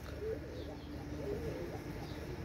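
Soft, low cooing from a pair of Pakistani teddy pigeons, Oman teddy bloodline, a few short murmured coos over a steady background hum, with no talking.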